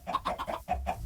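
Chickens clucking in Minecraft, a quick run of about six short, evenly spaced clucks, fairly faint and with no voice over them.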